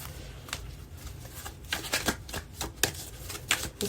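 Tarot cards being shuffled by hand: a run of quick, crisp riffling bursts that come in uneven clusters, close and clear with no talking.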